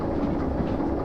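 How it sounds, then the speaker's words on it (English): A DM3 locomotive in the train simulator Derail Valley cruises gently along the track, giving a steady, continuous low rumble of rolling wheels and engine with no talk over it. "just going to gently cruise this train into it"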